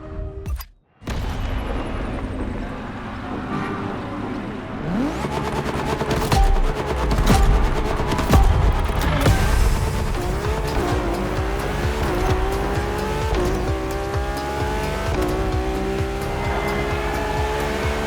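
A Ferrari sports car races hard in The Crew Motorfest: a loud, steady engine roar climbs through the gears for about thirteen seconds, with tire squeal and skidding at the corners and music mixed in underneath.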